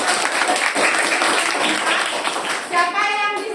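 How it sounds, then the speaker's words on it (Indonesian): Classroom of students clapping after a group presentation, dense and lively applause close by, with children's voices mixed in and a brief tonal sound near the end. "Ya, tepuk tangan."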